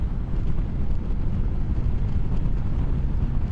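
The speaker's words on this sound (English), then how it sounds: "Oh, it's windy today." Strong outdoor wind buffets the microphone steadily and loudly throughout, a constant low rumbling roar with no pauses or voices.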